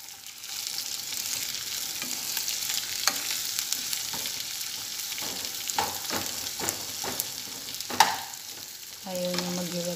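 Chicken liver and onions fry in a little oil, a steady close sizzle broken by several scraping stirs and a clink, with a brief tonal whine near the end.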